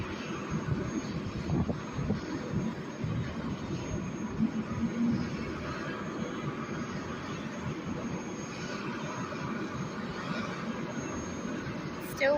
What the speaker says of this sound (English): I'm fascinated about whirlybirds.